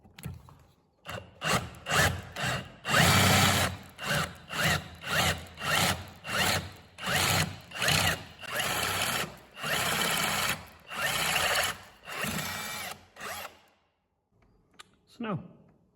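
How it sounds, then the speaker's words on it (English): A pillar drill drilling metal runs in a dozen short, loud bursts with brief pauses between them, grinding and whirring, then stops and leaves near silence. "we might try it in a pillar drill in a minute"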